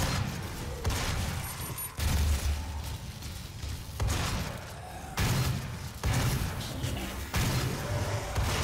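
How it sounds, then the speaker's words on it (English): A combat shotgun in the DOOM Snapmap video game fires loud, booming blasts with crashing impacts at roughly one-second intervals, each burst dense and continuous across the clip. "Combat shotgun."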